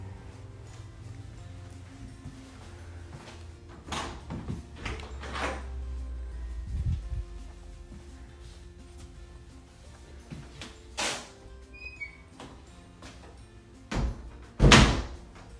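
A sliding barn door to a utility room in a modular home rolls and thumps in a quiet hallway, with several soft knocks and a louder bump near the end.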